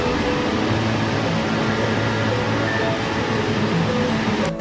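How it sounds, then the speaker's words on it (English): A home air conditioner runs with a steady, loud broadband hum and whir, continuous and unchanging, with no voices over it. "a level that's similar to that of a home air conditioner and sounds like this."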